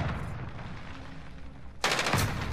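Rapid bursts of automatic gunfire in the video game Call of Duty Warzone on the Verdansk map, loud and dense, with a sharper, closer volley breaking in near the end.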